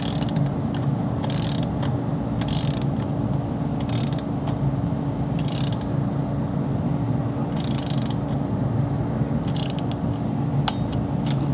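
A torque wrench ratchets in repeated bursts of close mechanical clicking over a steady hum while tightening bolts on a 2002 C5 Corvette LS1 engine during valley gasket work, ending with a sharp click.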